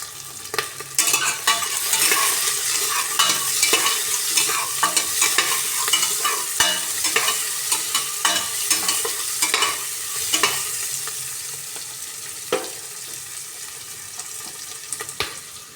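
Onion, green chili and bay leaf frying in hot oil for a plain biryani, with a steady sizzle and frequent clattering scrapes of a spoon stirring the pan throughout, close and fairly loud, no voices.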